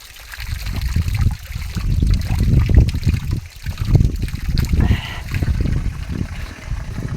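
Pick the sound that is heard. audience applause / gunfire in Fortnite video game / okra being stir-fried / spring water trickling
spring water trickling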